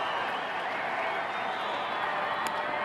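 A baseball crowd roars after a walk-off win, a dense, sustained wall of cheering and applause at steady loudness for the whole stretch.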